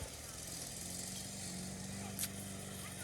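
A lawnmower runs outdoors in a Jamaican bush yard, a steady mid-distance engine drone holding an even pitch throughout, with a brief brighter rattle near the end.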